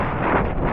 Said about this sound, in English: Wind up to 18 miles per hour.